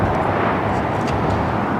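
An Air France heavy jet takes off from runway 25 right at LAX, its engines a loud, steady, broadband roar sustained throughout.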